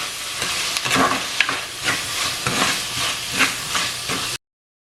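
Chopped tomato sautés in a hot pan as the base for a pepper-cumin country chicken curry, producing a loud, continuous hissing sizzle with repeated stirring scrapes up close.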